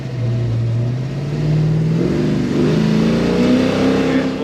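A 1970 Chevelle SS revs hard and accelerates loudly up close, the engine note climbing steadily over several seconds as the tires break loose and spin.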